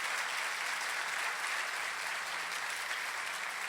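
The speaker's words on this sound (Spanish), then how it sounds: "¿Sí? Denle un aplauso al Señor," Steady, dense applause from a church congregation during a Spanish-language sermon, loud and continuous throughout with no break.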